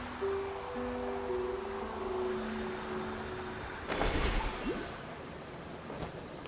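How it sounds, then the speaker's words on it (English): Steady heavy rain hisses through a scene in the video game Genshin Impact, with soft tonal music lines early and a sharper crackling burst midway before the downpour settles back. "This heavy rain must be quite..."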